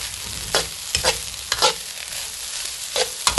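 Fried rice cooked with pork lard is stirred in a hot pan, giving a steady sizzle broken by several sharp scraping strokes of the spatula at irregular intervals, close and fairly loud, with no voices.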